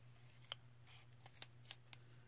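Scissors snip through a paper tag for a junk journal: a few short, crisp cuts spaced out over a couple of seconds, close but quiet, over a low steady hum and with no talking.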